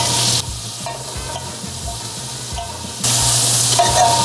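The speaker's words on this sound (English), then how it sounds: "now I'm going to add a couple tablespoons of butter to the dish" Butter melts in a hot dish with a bright, close sizzle that swells loud, eases to a softer hiss with a few clinks and scrapes, then flares up strongly again.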